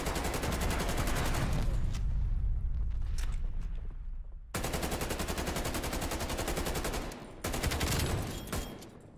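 Dense artillery-strike explosions and rapid gunfire in a video game combat match, loud and continuous, with bursts breaking off briefly and then resuming in heavy waves.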